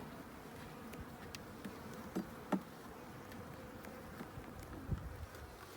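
A dense, steady hum of many honeybees buzzing close by at an open hive during a February inspection, with a few soft knocks and taps on wooden hive frames.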